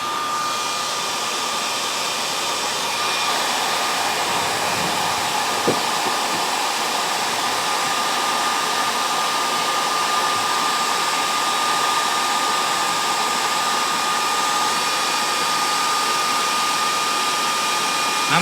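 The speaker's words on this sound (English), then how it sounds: "I got to get a heat gun there." Heat gun blowing a steady stream of hot air onto a nitro RC engine being warmed for a box tune, a continuous close whooshing hiss with a brief click near the middle and no talk.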